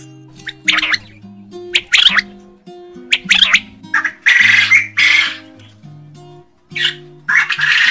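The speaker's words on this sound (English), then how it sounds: "Quail. And the sound of the quail is..." A quail calls in a series of short, loud, squawking bursts at a steady pace, set over a soft musical backing.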